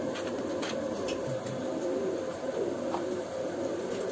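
Old pigeons cooing softly amid a dense, constant background hum, several low coos scattered through.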